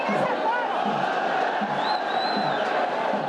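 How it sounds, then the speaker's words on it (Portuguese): Palmeiras supporters in a football stadium roar a sustained chant of olé, a dense crowd wash with whistles and whoops rising above it, a commentator's voice faintly underneath. "até soltou o grito de olé"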